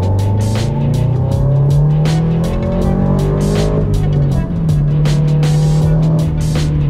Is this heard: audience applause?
no